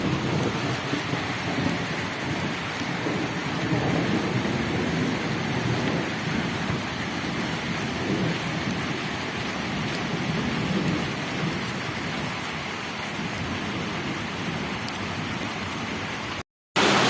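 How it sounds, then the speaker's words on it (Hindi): Heavy rain pours steadily in Murree, Pakistan, with rumbling thunder folded into a dense, continuous roar that holds close and loud throughout, cutting out briefly near the end. "शदीद तरीन बारिश लगी हुई है मरी में"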